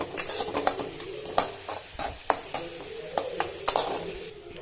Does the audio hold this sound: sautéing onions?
yes